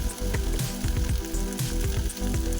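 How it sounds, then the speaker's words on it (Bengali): Squash frying in a pan, a steady loud sizzle with crackling and occasional stirring scrapes throughout, close up and alone. "যাতে আস্তে আস্তে ভাজা ভাজা সুন্দরভাবে মজে যায়"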